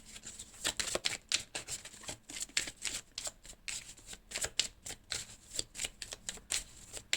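Tarot cards are shuffled close by in quick, crisp riffling bursts, a rapid run of papery flicks with brief pauses, with no voice over them.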